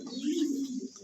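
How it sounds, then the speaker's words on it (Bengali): A pair of top-quality fancy milibar pigeons at a pigeon wholesale warehouse gives a low, steady coo that runs close and clear through the whole moment. "টপ কোয়ালিটির এক জোড়া মিলিবার শৌখিন কবুতর"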